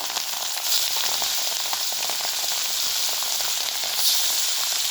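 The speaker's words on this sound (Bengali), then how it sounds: "বাকি মাছগুলো এভাবে ভেজে নেব" The remaining fish fry in hot mustard oil in a pan with a continuous, close, even sizzle and hissing crackle throughout.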